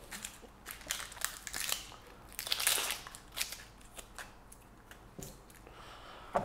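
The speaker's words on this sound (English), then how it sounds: "Same again, just moving the root and the top, peeling off the skin on the outside." Dry papery onion skin is peeled off by hand in a kitchen, with crisp crackling and crinkling bursts in uneven, close-up snatches.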